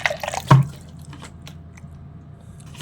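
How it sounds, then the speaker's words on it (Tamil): A brief splash of water being poured while making mackerel fish curry, followed by a few faint drips in a quiet room. "நம்ம தண்ணி கொஞ்சம் ஊற்றிங்க."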